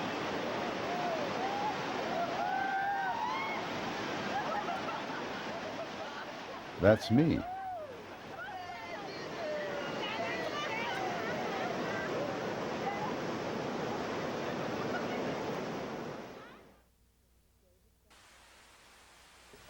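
River water rushes steadily during a rafting trip in Bali, a broad, loud wash that holds for most of the stretch before cutting out near the end, with brief voices breaking in partway through.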